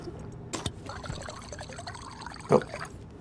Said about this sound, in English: And I might as well drink water as well.